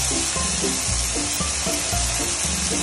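Onion and garlic sauté in a hot pan with a loud, continuous sizzle and crackle, close by, with faint utensil stirring and scraping underneath.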